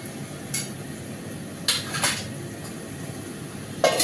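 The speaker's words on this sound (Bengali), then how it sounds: "এবার বেগুন দিয়ে একটু নাড়াচাড়া করে একটু জল দিয়ে দেবো।" Eggplant and potatoes being stirred in a cooking pot, with a few sharp clinks and scrapes of a utensil against the metal spaced over a soft background hiss.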